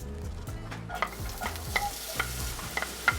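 Onions frying in about a tablespoon of cooking oil for an enfrijoladas breakfast filling, a close, busy sizzle with repeated utensil scrapes and taps as they are stirred around, no voices.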